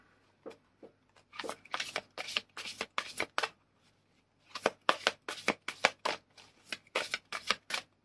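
Tarot cards are shuffled by hand in repeated bursts of quick riffling flicks with short pauses between runs. The sound is close and fairly quiet, with no speech.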